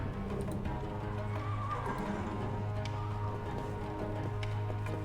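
Horses neigh and whinny in a stable in the video game Secret Files 3, with steady whinnies over a constant low stable hum and faint hoof clip-clop throughout.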